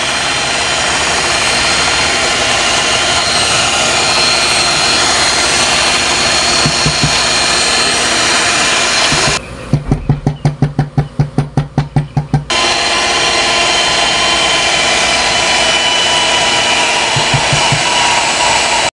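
An electric hand mixer whips Nestle cream while condensed milk is poured in, giving a steady loud motor whir that runs almost the whole time, broken briefly by a sputtering, pulsing stretch before the even drone returns.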